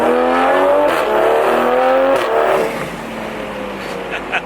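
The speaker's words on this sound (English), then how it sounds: "my Supra is now fully tuned straight piped" A tuned, straight-piped Toyota A90 Supra with a B58 engine revs hard from inside the car, its loud exhaust climbing in pitch through rising sweeps before easing off to a lower drone.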